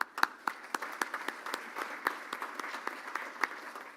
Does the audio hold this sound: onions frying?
no